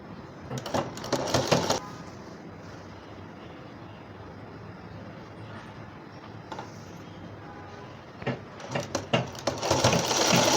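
A sewing machine stitches fabric for a baby cap in two short runs of rapid whirring at the start and end, with quieter handling noise between them.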